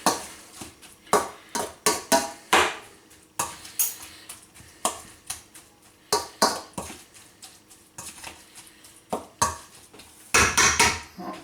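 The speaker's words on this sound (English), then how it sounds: "I'm going to stir this around fairly gently so I don't break the lentils up too much" A lentil veggie bake mixture is stirred gently in a pan, making a steady run of clinks, scrapes and soft wet knocks from a utensil against the pan at close range, with no talking.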